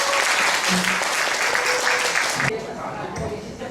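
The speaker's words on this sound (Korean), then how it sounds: "다시 한번 큰 박수 부탁드립니다." A crowd at a panel discussion forum claps steadily for a few seconds, broad and dense, then the applause thins out and fades toward the end.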